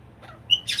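A single sharp cockatoo squawk rings out, followed by a harsh, noisy screech as it breaks off, close by and fairly loud over a low background hum in an indoor bird room.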